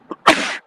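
A single sharp sneeze, close and loud, preceded by a brief intake of breath.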